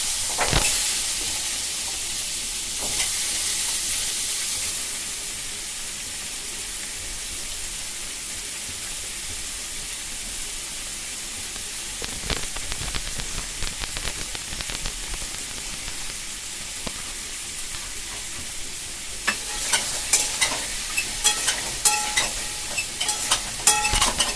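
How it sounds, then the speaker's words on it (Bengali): Drumstick (sajne) and potato frying in a pan with radhuni seeds, turmeric and salt, a steady sizzle and hiss with occasional stirring scrapes growing busier toward the end, no talk. "আমি রাঁধুনি ফোড়ন দিয়ে আগে সজনে আলুটাকে ভালো করে হলুদ লবণ দিয়ে নেড়ে চেড়ে ভালো করে"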